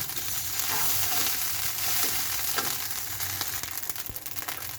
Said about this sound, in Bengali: দেখো ভাত ভাজা হয়ে গেছে